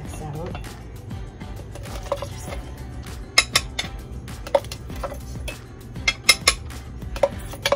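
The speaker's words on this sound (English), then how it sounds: "Scrape this out." A tool scrapes acrylic paint out of a container, producing irregular close clinks and scrapes against the vessel over a low background hum.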